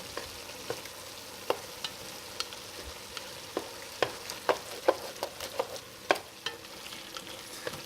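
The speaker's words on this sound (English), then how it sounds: "Stir that around a bit." Tomato paste being stirred in a pot for Cajun spaghetti sauce: a steady low sizzle with irregular scraping clicks of the spoon against the pot, close and moderately quiet, no talk.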